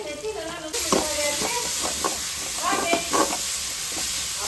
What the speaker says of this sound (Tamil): வெங்காயம் நல்லா வதக்கிட்டு நெக்ஸ்ட்டு வந்து தக்காளி, பழுத்த தக்காளியாக வந்து வதக்கிக்கணும்